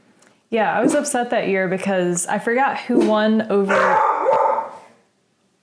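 A dog barks in the background while people talk steadily in the foreground, its barks partly buried under the conversation.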